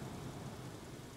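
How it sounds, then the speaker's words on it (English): Rain falls outside in a steady, faint, even hiss of drops for a brief moment, with no voices over it. "Or if it's fucking raining."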